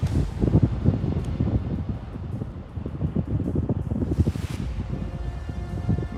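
Strong outdoor wind gusts buffet a microphone in cold weather, a loud continuous rushing roar with low rumbling bursts and no speech.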